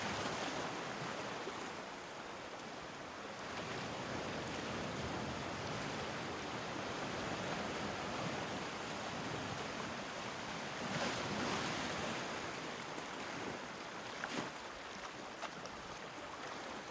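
Ocean waves washing onto the shore of a Cornish cove, a dense continuous surf roar with soft swells rising and falling, steady and fairly near with wind in the background.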